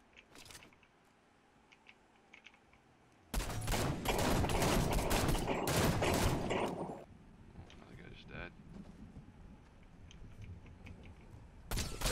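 A Star Wars Battlefront style blaster gun in a video game fires a loud, dense burst of rapid shots lasting a few seconds, followed by quieter game noise and a sharp final shot, with voices talking around it.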